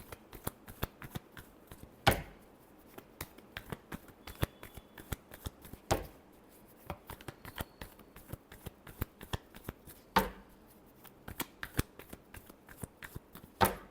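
Tarot cards being shuffled by hand in a long run of crisp riffling and flicking bursts, with several louder slaps and pauses between passes, close and alone with no talking.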